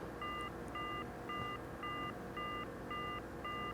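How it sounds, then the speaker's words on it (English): Telephone in the Silent Hill video game beeping, seven evenly spaced, clear electronic tones repeating alone over a low background hum. "You hearing the phone beep at all?"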